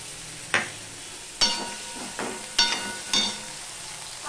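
Ginger paste drops into a pan of onions and potatoes frying in oil, giving a steady close sizzle broken by five sharp stirring scrapes and spatters at roughly even intervals, with no talking.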